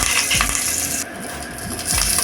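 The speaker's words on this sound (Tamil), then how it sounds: "முந்திரி வறுபட்டதும் 2 காஞ்ச மிளகாயும் கொஞ்சம் கருவேப்பிலையும் சேர்த்துக்குங்க." Cashews, dried red chilies and curry leaves fry in hot oil in a pan, a loud, close, continuous sizzle with a few stirring scrapes and no talking.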